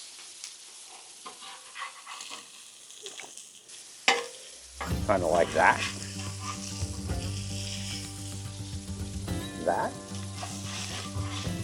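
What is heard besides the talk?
hot dogs sizzling with cheese on a griddle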